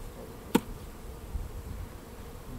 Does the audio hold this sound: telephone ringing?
no